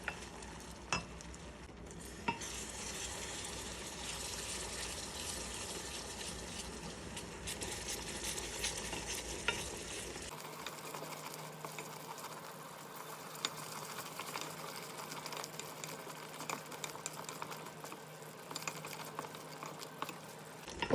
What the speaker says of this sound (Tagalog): Kapag madilyot na yung brown sugar natin, ilagay na natin yung mixture ng cornstarch at saka ng milk.